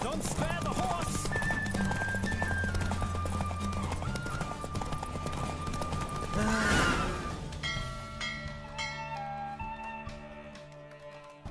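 Rapid hoofbeats of a galloping horse in a horse race in The Witcher 3: Wild Hunt pound steadily for several seconds, then fade out as ringing musical tones take over.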